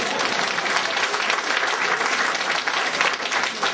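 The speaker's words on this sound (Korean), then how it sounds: "박수 정도는 나와야지." A church audience bursts into dense, loud applause that holds steady and fills the whole stretch without pause.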